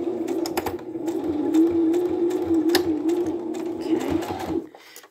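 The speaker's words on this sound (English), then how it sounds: "And just going to do a couple of stitches first. I am going to back stitch." A sewing machine back stitches on fabric for a phone pillow, a steady close motor whir with a rapid needle clatter running throughout, with a few louder clicks as the direction changes before it winds down at the end.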